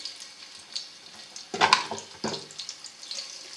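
Chopped onions dropped into hot ghee for chana pulao, giving a burst of frying sizzle and hiss about midway that keeps crackling at moderate loudness, with clattering of the onions landing in the pan.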